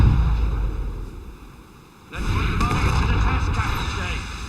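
Ship cannons fire in a naval battle in Assassin's Creed, a heavy booming barrage that swells after a brief lull amid ongoing rumbling battle noise, with shouted voices in the mix.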